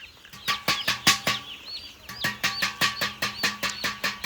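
Broiler chicks on a farm rush toward a metal plate as it is beaten. Sharp, rhythmic metallic bangs repeat steadily up close, with chick cheeps and wing flutters mixed between them.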